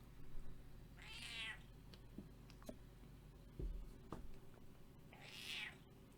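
A cat meows twice, faint and close, with a few seconds between the calls, over a quiet background that holds small ticks and clicks.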